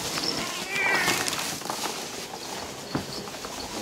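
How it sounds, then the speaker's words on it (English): A cat gives a brief, faint meow early on, half buried in a busy, noisy indoor background with scattered clattering and no clear speech. "There's a cat."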